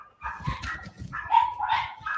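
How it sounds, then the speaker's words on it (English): A small, vicious-sounding little dog barks repeatedly and sharply at close range, with yippy bursts running almost continuously through the clip. "Such a vicious little dog."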